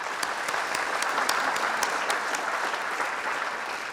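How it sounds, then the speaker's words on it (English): Hall of fame induction ceremony audience giving a round of applause, continuous dense clapping from a crowd at steady loudness throughout. "we should all give a round of applause also to the people who are inducted here tonight"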